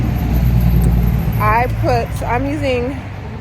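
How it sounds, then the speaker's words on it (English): Cars drive past on a nearby road, a steady low traffic rumble beneath a person talking. "There's so many cars driving by."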